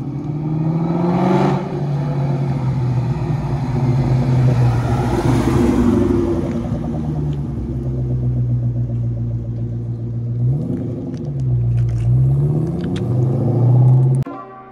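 A 500+ horsepower Terminator Cobra sports car with a stick shift drives along, its engine droning loudly and steadily close by, revs rising and falling with gear changes.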